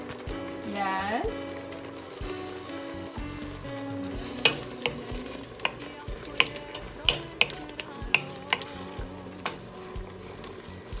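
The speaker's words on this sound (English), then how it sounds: "I will let this to cook for maybe 15 minutes" Seasoned food fries in a pan with salt and pepper, a continuous close sizzle broken by sharp, irregular clinks and scrapes of a utensil stirring against the pan.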